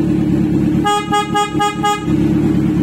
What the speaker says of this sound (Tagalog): Pag bumusina kayo, gagana pa rin yan.